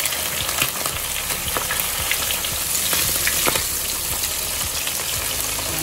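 Cornmeal-coated bream frying in hot oil, a loud steady sizzle with crackling pops throughout, close and uninterrupted, with no talking.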